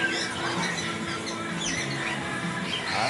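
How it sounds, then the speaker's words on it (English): An Umbrella Moluccan cockatoo, a parrot, squawks loudly and harshly in a near, continuous run of raspy calls over a few seconds, with no talking. "Now that's an intelligent bird."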